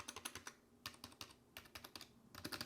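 Keys on a cheap $8 wireless 2.4 GHz numpad tap out quick clusters of soft, mushy clicks, faint and close, in uneven bursts with short pauses.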